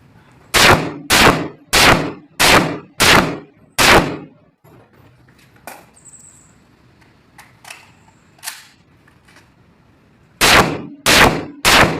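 Gunshots at a marksmanship shooting session: a rapid string of five loud, sharp reports, a pause with faint clicks and handling noises, then three more close shots in quick succession.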